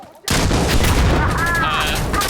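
A rocket fires in the shooter game Insurgency Sandstorm, a sudden loud blast followed by a roaring, crackling rush that trails off over two seconds, with distant gunfire-like pops mixed in.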